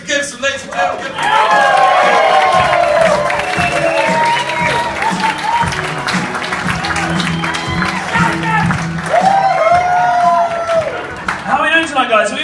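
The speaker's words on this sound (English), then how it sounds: "round of applause and give it up for Fraser Gibson, ladies and gentlemen" A comedy club crowd in Auckland breaks into loud, sustained applause with cheers and whoops for comedian Fraser Gibson, the clapping swelling and staying dense throughout with shouts rising above it.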